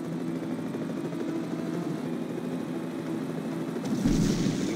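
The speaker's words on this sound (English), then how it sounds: "Michael, that helicopter is heavily armed." An armed helicopter from the Knight Rider 2 video game on PS2 drones with a steady, dense rotor rumble, then swells louder and rougher in the final second.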